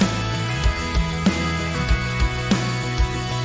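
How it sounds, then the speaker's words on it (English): Electric guitar playing a lead line with sustained notes over steady, thumping drum hits in a full band mix. "So we redid that also with an electric guitar to make it sound a little bit bigger"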